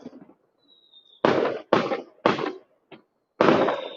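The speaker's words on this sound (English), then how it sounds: "There are some fireworks after all." Fireworks bursting during Spring Festival celebrations in Longchang, Sichuan: five loud, sharp explosions in an irregular sequence, each with a brief crackling tail, separated by short near-silent gaps.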